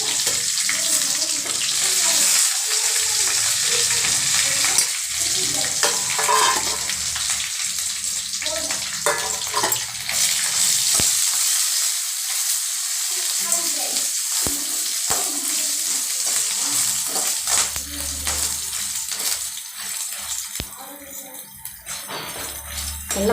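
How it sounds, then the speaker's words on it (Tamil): Coriander, cumin and pepper frying in oil in a pan for mutton kulambu, giving a continuous close hiss and crackle with occasional stirring scrapes and brief pauses. "நல்லா முறுமுறுன்னு ஆறு வரைக்கும் வறுத்துக்குங்க."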